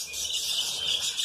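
Parakeets chirping in an exotic bird breeding aviary, a dense high twittering chorus held steady for a moment.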